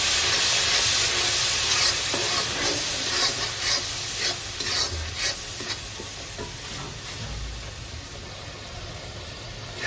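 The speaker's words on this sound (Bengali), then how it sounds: "মশলাটা কষাই নিই" Spice masala for a hilsa fish curry frying over a low gas flame, a steady close sizzle with a spoon scraping and stirring through it in repeated strokes.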